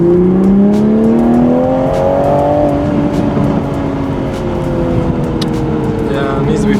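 Big-turbo 2JZ Toyota Supra heard from inside the cabin, the engine note climbing steeply as it accelerates hard through the gears, then settling into a loud sustained drone with road and wind noise.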